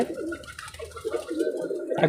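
A pigeon coos softly in low, throaty bursts, repeating a few times close to the listener with no talking.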